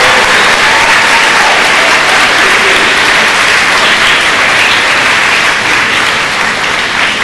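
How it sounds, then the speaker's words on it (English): Sustained audience applause fills a school award ceremony for fifth-grade fitness honors, steady dense clapping from a crowd throughout with no talk over it. "Please have a nice round of applause for our Presidential Fitness Award."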